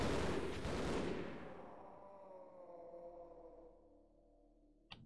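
Gunfire in the Half-Life video game, heard as a loud opening burst that rings out and slowly decays into a long echoing tail, followed by a short sharp report near the end.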